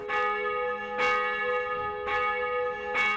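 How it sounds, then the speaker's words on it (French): Church bells of the new Saint-Pierre church in Essonne ringing, four evenly spaced strikes about a second apart, each leaving a bright, sustained metallic hum that carries between blows, loud and clear with no voices. "Désormais, les cloches du récent bâtiment sonneront tous les jours"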